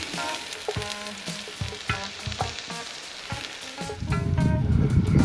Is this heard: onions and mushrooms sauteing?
yes